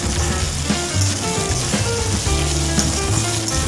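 Washed crabs frying with browned onions in a hot pan give a dense, steady sizzle with crackling pops throughout, close and fairly loud, with no voices.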